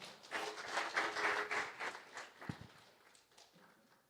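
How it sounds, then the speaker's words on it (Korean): A church congregation claps in welcome as the pastor comes forward at a Sunday worship service, a brief burst of scattered applause that swells for about two seconds and then thins out, with a few isolated claps and knocks trailing off. "우리 목사님 나오실 때 환영하는 마음으로 박수로 환영하도록 하겠습니다"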